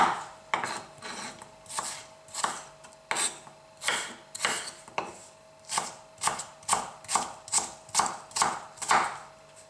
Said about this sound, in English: just chopping up all the tomatoes